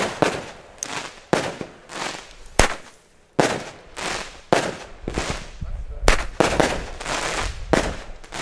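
Firecrackers with tails set off on a street at New Year's Eve: a rapid series of sharp, loud cracks and bangs, several close together, with hissing trails between blasts and no talking.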